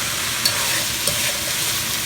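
Onions fry and get stirred in a pan, a steady close sizzle with faint scraping of the utensil.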